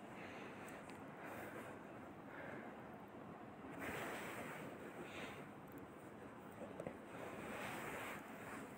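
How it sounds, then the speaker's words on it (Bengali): Onions and chilies dropped into hot oil in a home kitchen, giving a faint, steady, even sizzle that continues without pause. "তো এখন তেলটা গরম হয়ে গেছে, এখন আমি পেঁয়াজ আর মরিচ দিয়ে দিলাম।"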